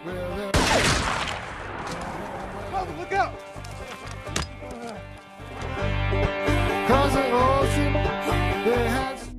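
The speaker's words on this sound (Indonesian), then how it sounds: "dari jarak jauh peluru dari polisi yang bernama Melvin Purvis pun menembus tubuhnya." Police gunshots in a film scene ring out as a sharp burst early on, then a lone crack, with speech and background sound carrying around them.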